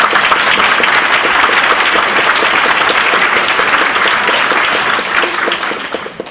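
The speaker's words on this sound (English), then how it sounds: "give all of yourselves a round of applause" Loud, sustained applause from a convocation audience, with dense hand clapping that holds steady for several seconds and then begins to thin and fade toward the end.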